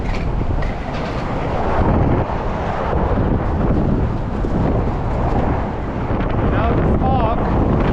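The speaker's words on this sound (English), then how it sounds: "Let's roll around the corner to the increased wind conditions." Strong wind sweeping across the Golden Gate Bridge in San Francisco, a loud, continuous roaring rush buffeting the microphone with the low rumble of rolling skates underneath.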